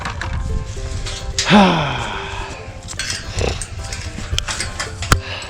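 A low, rough animal grunt-squeal rises briefly amid outdoor rustling and background noise, with a sharp knock near the end.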